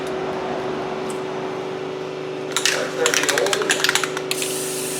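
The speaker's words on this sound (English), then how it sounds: "So we'll give that a little spritz." Brake cleaner sprayed onto the inside face of a brake rotor during a front wheel bearing job on a Chrysler 200, a string of short hissing spritzes in the second half over a steady garage background hum.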